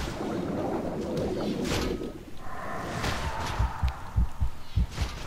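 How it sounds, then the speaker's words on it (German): Low, thumping heartbeat pulses from the video game Rift rise out of a whooshing ambient wash, several close beats in steady rhythm toward the end. "Oh, ich höre schon wieder meinen Herzschlag."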